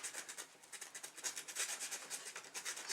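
Hand sanding a vintage straight razor's steel blade with sandpaper, a steady rhythmic rasp of repeated back-and-forth strokes, close and fairly quiet, with no voices.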